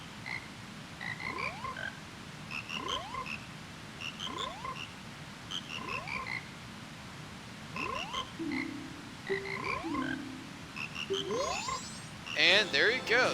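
In The Legend of Zelda: Majora's Mask, frogs croak in a repeating rhythmic chorus under soft game music, ending with a burst of bright chime-like effects.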